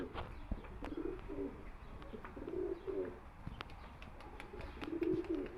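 Pigeons coo in a home coop, several low rolling coos repeating in short bursts, with faint chirps and occasional wing sounds around them at moderate distance.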